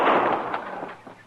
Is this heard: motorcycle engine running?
no